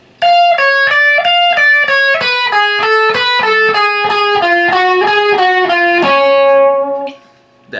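Electric guitar plays a slow, clean sweep-picked arpeggio lick. Distinct notes step up and down in an even rhythm, sounding loud and close with no talking, then ring out and fade near the end.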